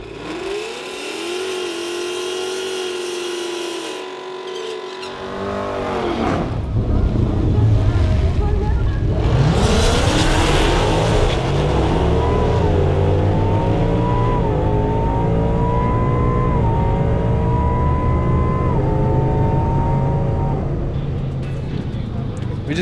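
A supercharged Roush 2018 Ford Mustang GT on a tuned calibration makes a drag strip pass, its engine droning loudly, then revving hard through rising, stepping gears with heavy wind noise across the microphone.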